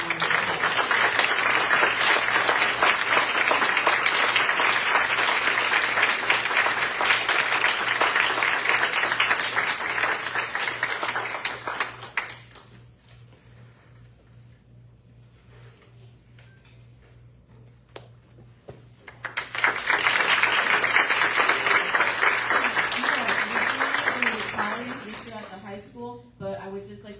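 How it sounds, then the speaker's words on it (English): Board of education meeting audience applauding a high school Teacher Assistant Award recipient: a loud, sustained burst of many hands for about twelve seconds, a quiet pause, then a second strong round of clapping that tapers off. "Let's give him a round of applause."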